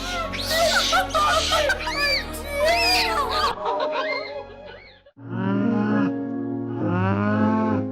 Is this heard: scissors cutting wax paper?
no